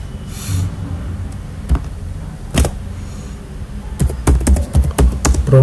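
Computer keyboard typing during data entry in a MERN stack web app, with scattered keystrokes early and a dense burst of clicking near the end, close and clear with no talk.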